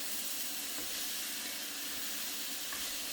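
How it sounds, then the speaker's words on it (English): Mushrooms sauteing in oil in a pan while vegetables cook for a one-pot tortellini alfredo, producing a steady, even hiss of sizzling that stays constant and close throughout. "So we're going to saute these down"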